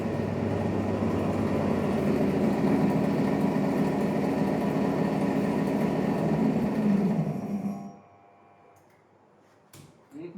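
A DC shunt motor runs steadily at about 1352 RPM with an even mechanical hum and whine, then cuts off sharply around eight seconds, leaving near silence and a faint click.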